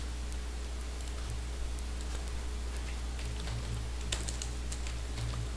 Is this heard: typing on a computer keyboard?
yes